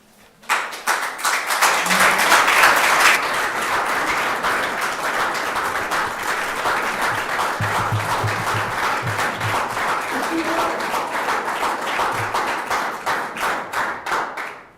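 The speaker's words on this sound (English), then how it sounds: "Thank you for the applause." Audience at a solar advisory meeting breaking into sustained applause, many hands clapping loudly and continuously for over ten seconds before fading out.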